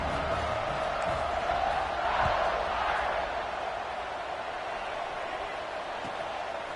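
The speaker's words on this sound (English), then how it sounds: "this crowd is buzzing after that last score" A football stadium crowd buzzes after a score as the teams ready for the kickoff, a broad, steady roar of many distant voices with a few brief surges of cheering, and no clear talk over it.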